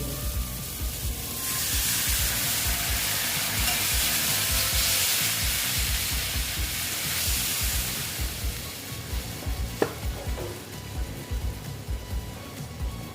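Water pours into a pan of spiced Boal fish curry, setting off a loud, steady sizzle and hiss that fills the pan for several seconds, then settles into lower bubbling with a few clinks of stirring near the end.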